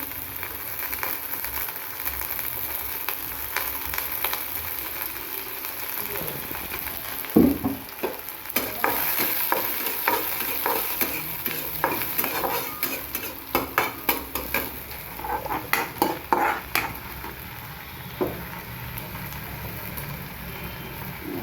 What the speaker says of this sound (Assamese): ঢেকীয়া শাক ভাজি বনাম।